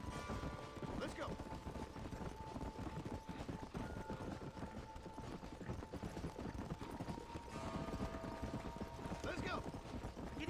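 Galloping horse hooves in the Western game Red Dead, a steady rapid clip-clop running throughout at close range, with game ambience beneath and voices talking over it.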